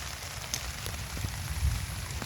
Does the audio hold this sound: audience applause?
no